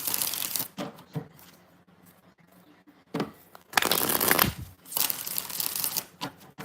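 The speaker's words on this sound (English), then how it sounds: "Two more shuffles." Tarot cards being shuffled in several quick riffling bursts, close up, with brief pauses between them and no talking.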